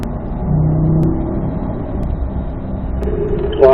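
A Corvette on a track at a performance driving school accelerates out of a curve, with a steady, loud engine drone and rumble that rises in pitch near the end.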